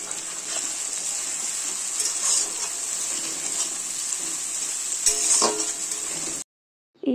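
Fish oil fries with ginger and garlic in a pan for macher tel chochori, a loud steady sizzle with stirring scrapes that swell near the end, then a sudden cutoff to silence.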